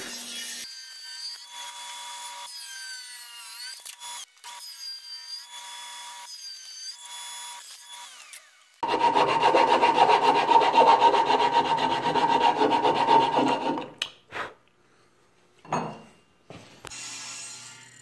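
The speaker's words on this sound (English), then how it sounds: "After I cut the angles in the panel, I could clear out the middle of the panel with a dado stack." A table saw or similar power saw cuts angled kerfs in a wood panel for a book press, a loud sustained whine of roughly five seconds that follows quieter tool noise, then stops abruptly with a few short bursts after.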